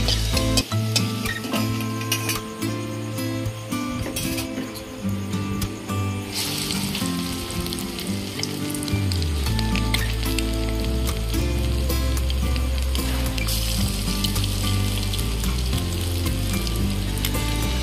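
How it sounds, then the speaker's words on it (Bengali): Egg and masoor dal fritters frying in hot oil: a loud, continuous crackling sizzle that thickens and deepens about halfway through. "বাকি বড়াগুলো আমি সেম ভাবে ভেজে নেব।"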